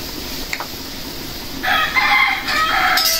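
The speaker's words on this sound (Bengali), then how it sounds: "সন্ত্রাসী মোরগ কি যে বাক শুরু করছে।" A rooster crows nearby in a home kitchen setting, two loud drawn-out calls in the latter half over a quiet background.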